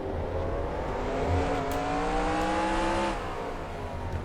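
Race car engine in NASCAR Racing 2003 revving steadily at close range, its harmonic tone climbing through a gear and holding a sustained, loud whine under constant rumble, with no talking.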